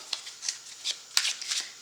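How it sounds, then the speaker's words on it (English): Tarot cards being shuffled by hand, a series of soft papery riffles and flicks in quick irregular bursts, close and fairly quiet. "A couple more shuffles and we are good to go"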